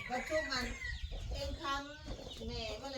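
Chickens cluck and call repeatedly in a rural yard, fairly close, under a steady background of noise and some indistinct voices.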